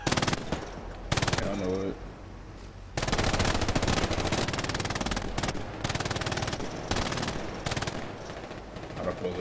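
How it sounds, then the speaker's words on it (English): An MG42 machine gun in the Hell Let Loose battlefield game rattles in long, loud sustained bursts with short gaps, and a brief spoken line slips in between bursts. "there's a guy next to you just like on your back just posted up the MG42"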